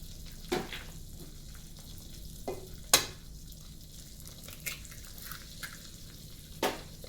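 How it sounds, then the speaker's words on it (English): Soft, low sizzle of eggs cooking in a wok for chicken fried rice, broken by a few sharp clicks and scrapes of a utensil at irregular intervals, fairly quiet and close, with no talking. "So we're going to start with the eggs first. And I'm going to crack a few of these eggs."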